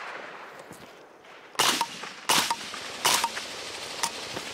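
Shots from a 7.62x39 delayed-blowback rifle fitted with a PTR vent, fired at a range event: three loud, sharp reports about three-quarters of a second apart, each with a short ringing tail, plus a fainter fourth shot.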